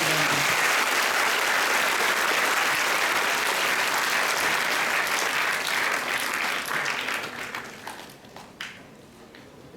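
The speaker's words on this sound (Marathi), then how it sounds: "एकदा सर्वांनी टाळ्या वाजवा जोरात या" Students at a school guidance event break into loud, sustained applause that gradually thins out and fades toward the end.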